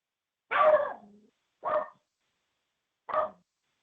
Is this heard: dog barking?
yes